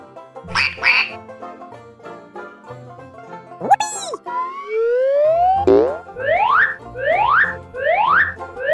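A duck quacks in a run of loud, close calls, with a few springy boing-like effects and a quick rising tone in between.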